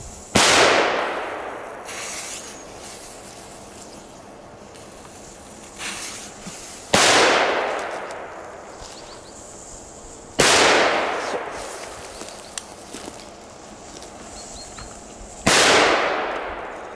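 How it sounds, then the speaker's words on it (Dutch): Four small Belgian firecrackers burst one after another, each a sharp, loud crack with a fading tail, spaced several seconds apart against a quiet outdoor background. "Kleine knalletjes."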